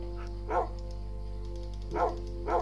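Short dog barks in Minecraft, three bursts with a long pause between the first and second, fairly close, over a steady hum of game background.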